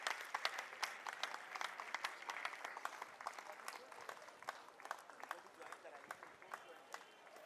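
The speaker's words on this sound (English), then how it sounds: "Please give a big round of applause" Audience applauding at an annual cultural night and prize distribution ceremony, a steady patter of many hands clapping that carries on throughout, moderately loud with bright, dense claps.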